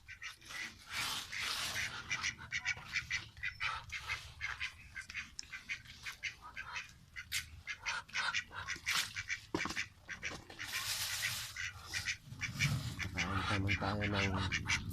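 Ducks quack repeatedly in a busy, noisy flock, overlapping calls close by, while people talk faintly in the background.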